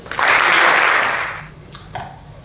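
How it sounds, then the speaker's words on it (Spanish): An audience at a Guirijondo proclamation event applauds Antonio García Barbeito: a loud burst of clapping that swells quickly, holds for about a second, then fades out, followed by a few scattered late claps. "Un fuerte aplauso."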